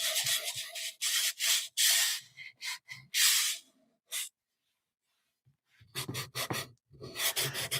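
Fine sandpaper lightly rubbed along the edges of a wooden piece in short bursts of scratchy strokes, close and fairly quiet, with a long pause in the middle before quicker strokes resume.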